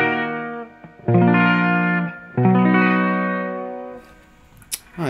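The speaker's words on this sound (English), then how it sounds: "this is the sound of just the chain." An electric guitar played with a metal chain laid across the strings gives a few buzzing, distorted chord hits with a noisy scrape near the end. It sounds close and alone.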